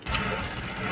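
Explosion in the mobile video game Call of Duty Mobile: a single loud, crashing blast that sustains as a dense noisy roar for about a second.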